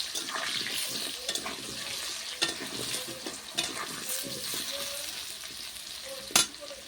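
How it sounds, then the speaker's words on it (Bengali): Potatoes frying in a pan for a home-style chicken and potato curry, a steady close sizzle with occasional stirring scrapes and a few sharper spatula clinks, no talking. "এবার আলুগুলোকে ভালো করে আমি ভেজে নেব, লাল লাল দিয়ে।"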